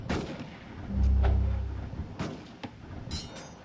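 Enemy gunfire in a video game: a heavy boom around the middle, followed by a few scattered sharp shots and clinks at moderate distance, fairly quiet overall.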